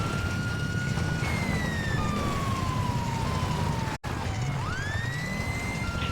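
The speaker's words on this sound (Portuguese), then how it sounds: "Essa sirene." A police siren in the video game GTA V wails in long, gliding sweeps, loud and continuous over a dense rumbling background, with one brief dropout.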